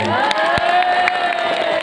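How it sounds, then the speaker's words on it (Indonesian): A crowd at a Maulid Nabi religious gathering cheers and claps in a brief, loud burst mixed with voices. "Tepuk tangan dong."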